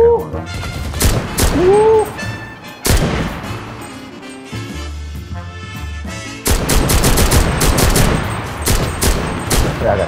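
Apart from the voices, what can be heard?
gunfire in the video game CRSED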